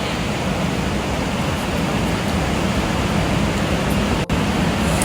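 A strong river current rushes past in a steady, loud, broadband wash of water that holds constant throughout, with no voices over it.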